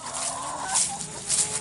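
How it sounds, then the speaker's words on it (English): A backyard hen clucks loudly and repeatedly after laying an egg, an excited cackling close by over steady outdoor background noise, with no voices. "I hear a chicken bagocking"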